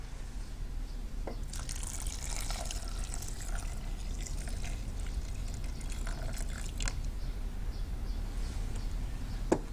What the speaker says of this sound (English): and just enough water to cover them